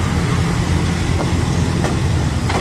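Steady low rumble of a long-distance train at Bang Sue Junction station, Bangkok, in the early morning, with a few faint clicks and knocks over a continuous mechanical drone.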